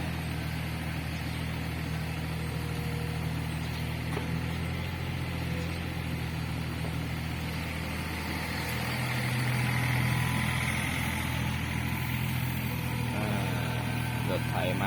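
A farm tractor engine drones at a shrimp pond dredging site, a low steady rumble that grows a little louder toward the middle as it comes closer, with faint ambient noise around it.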